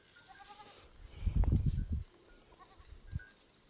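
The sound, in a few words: goats bleating as herd is brought down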